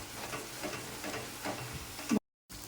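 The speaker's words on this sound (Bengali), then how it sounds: "ভালো করে মশলাটা কষানো হয়ে গেছে, তেলও ছেড়ে দিয়েছে" Ground spice paste with turmeric and Kashmiri chilli powder being stirred as it fries in oil for a Bengali fish curry, close soft sizzling with scraping spoon strokes before a brief cut to silence.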